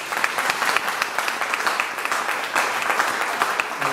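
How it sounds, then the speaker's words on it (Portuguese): Church congregation applauding during a service, a dense, steady burst of many hands clapping at close range for about four seconds with a faint voice underneath. "Você pode dar um aplauso ao Senhor?"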